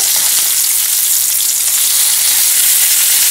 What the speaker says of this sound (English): Just flip the kebab with very gentle hands and big spatula.